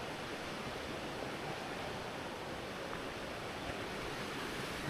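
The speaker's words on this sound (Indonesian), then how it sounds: "sampai di air terjun Curug Lawi" Curug Lawe waterfall in Kalisidi sends up a constant, even rush of falling water, a broad hiss that holds steady throughout with no voices over it.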